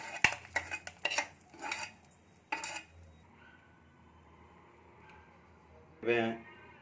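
Crab frying in a kadai over a village stove, stirred with a metal ladle that clanks and scrapes in several bursts, followed by a quieter stretch of faint sizzling and one last loud scrape.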